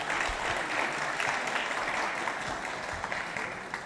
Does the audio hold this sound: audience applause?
yes